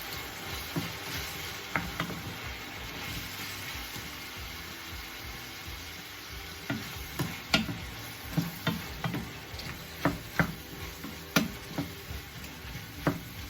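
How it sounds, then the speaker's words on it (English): Okra and mixed vegetables sautéing in a pan, a steady close sizzle with scattered clicks and scrapes of a utensil stirring through them, cooking breakfast-style salt fish and okra. "I'm gonna give this a quick stir like that. And while this is being sauteed"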